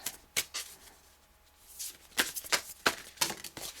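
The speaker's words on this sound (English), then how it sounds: "A few more shuffles and then I'll choose." Tarot cards shuffled in several quick riffling bursts, close up, with short pauses between them and no voices.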